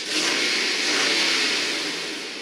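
A 2013 Nissan Titan Pro-4X pickup truck engine revs up loudly close by, a sustained throaty roaring rise that holds and then eases slightly, with no talking.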